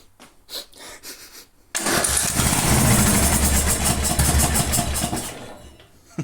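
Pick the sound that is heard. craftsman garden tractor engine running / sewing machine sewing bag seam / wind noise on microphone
craftsman garden tractor engine running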